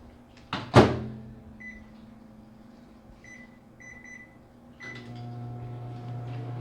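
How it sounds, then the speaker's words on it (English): A microwave oven cooking scrambled eggs: a sharp door thump, a few soft keypad beeps, then a steady low running hum that starts and continues to the end, quiet and close. "put them back in the microwave."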